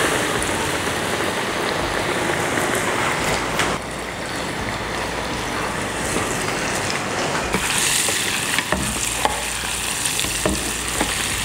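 Shrimp frying in a small pot holding only a little oil: a steady, close crackling sizzle runs throughout with occasional louder pops and stirring scrapes, no voices.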